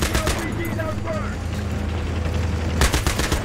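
Battlefield game gunfire aimed at the player, a burst of rapid shots with a louder crack near the end, amid in-game background noise and faint voices.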